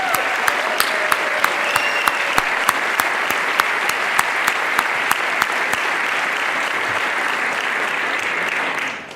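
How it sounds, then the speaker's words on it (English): Loud, sustained applause from a conference audience at a university president's address to a Rotary peace gathering, steady clapping filling the room for about nine seconds before stopping abruptly. "Let's give our younger attendees a round of applause."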